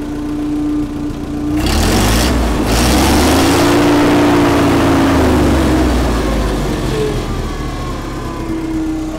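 A vintage Allis Chalmers forklift engine runs at a steady idle, then rises slightly in pitch and load for a few seconds before settling back, loud and close.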